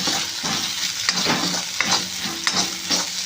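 Onion and ginger-garlic paste sauté in a hot pan for idli fry, with a continuous loud sizzle and periodic scraping from a spatula as the mixture is stirred.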